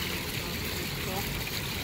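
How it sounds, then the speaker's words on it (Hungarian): Fountain water splashes and rushes in a steady, even wash of noise, heard from fairly close during an outdoor walk. "Ez szökőkút víz."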